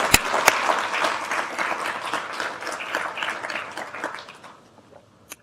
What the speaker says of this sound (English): I think we need to give you a round of applause